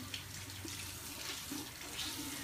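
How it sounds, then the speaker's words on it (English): A bathroom tap runs steadily as a makeup sponge is wetted under the stream, a soft continuous splash and hiss with small gurgles, close by and fairly quiet, with no talking. "So I'm just wetting the beauty blender until it's like almost dripping."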